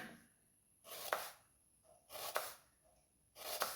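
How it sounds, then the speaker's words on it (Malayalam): A knife chops an onion into medium pieces in three separate bursts of quick strokes against a cutting board, with close, crisp cuts and quiet pauses between them. "നമുക്കൊരു ഒരു മീഡിയം വലുപ്പത്തിൽ അരിഞ്ഞെടുക്കാം"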